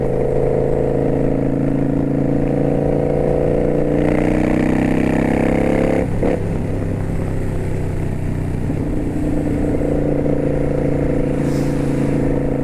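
Kawasaki Vulcan 900 Custom Special Edition motorcycle engine droning steadily while riding, loud and close throughout, with a brief dip and shift in pitch midway as the rider changes speed.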